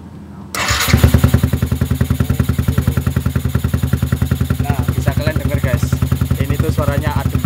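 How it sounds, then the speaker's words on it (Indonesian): A Yamaha R15 V2 motorcycle fitted with a modified exhaust fires up after a brief crank, then settles into a steady, loud idle. Its rapid, even exhaust pulses are close by, with voices talking faintly underneath. "langsung kita dengerin suara knalpotnya"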